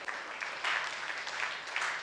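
A church congregation claps together during a Sunday service, a dense, steady patter of many hands filling the room for about two seconds at moderate loudness.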